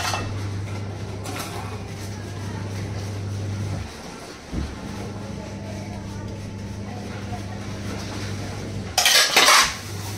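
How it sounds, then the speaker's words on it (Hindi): Dishes and utensils are washed by hand indoors at home, with steel pots and cutlery clinking and scraping at close range over a low steady hum and a burst of louder clattering near the end. "बर्तन धोना स्टार्ट कर रही हूँ"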